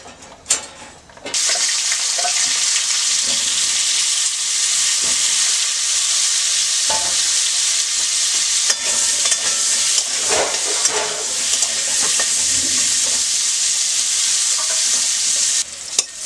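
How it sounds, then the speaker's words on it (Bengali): Potatoes fry in hot oil in a wok, a loud steady sizzle that runs nearly unbroken for the whole stretch, with scattered clinks and scrapes of stirring and no talk. "আবার কড়াই তেল দেওয়া হলো, আলুগুলো ভাজা হবে।"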